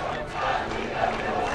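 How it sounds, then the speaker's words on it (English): A stadium crowd at a college soccer match lets out a brief, broad groan that swells and holds as one continuous wash of voices. "Stays alive on the baseline, crossing pass, and the crowd groans"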